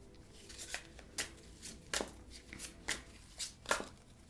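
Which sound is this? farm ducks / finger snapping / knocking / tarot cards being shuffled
tarot cards being shuffled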